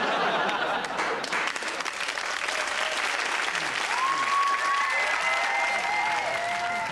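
Sustained studio audience applause fills a British sketch comedy show, dense and steady throughout, with a light laugh or two mixed into the clapping.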